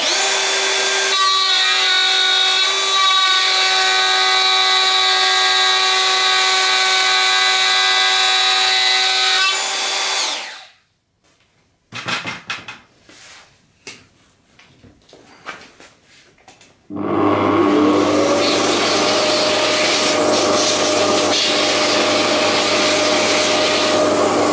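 A power tool cuts a groove into wood with a loud, steady whining grind for about ten seconds, followed by a pause with scattered handling knocks, then a second long run of cutting noise.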